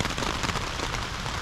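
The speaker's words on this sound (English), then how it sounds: "Love this sound, rain on the tent." Rain drumming on a tent along the Appalachian Trail, a dense, close, steady patter of drops on fabric with no voices.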